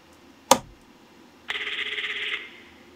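A telephone in the FNAF game Five Nights at Freddy's: Into the Pit rings loudly, a single sharp hit followed a second later by a bright, buzzing ring that lasts about a second.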